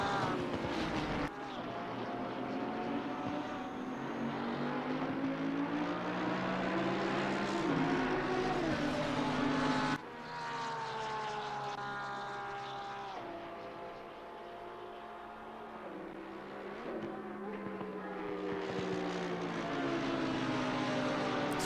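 Lamborghini Huracan EVO2 GT3 racing at Silverstone in Assetto Corsa Competizione, a loud sustained engine howl rising and falling through gear shifts, with a sharp change near the middle and revving climbing again toward the end.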